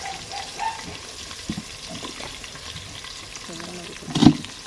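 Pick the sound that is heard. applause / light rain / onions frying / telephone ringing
onions frying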